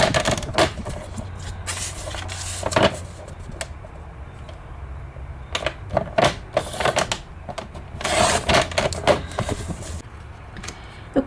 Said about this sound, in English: I'm gonna use a trimmer.